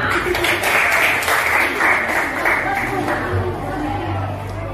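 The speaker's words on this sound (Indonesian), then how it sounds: "mari kita tepuk tangan untuk kita semua" Middle school classroom of students applauding together, a steady broadband patter of many hands under overlapping voices and chatter, fading slightly toward the end.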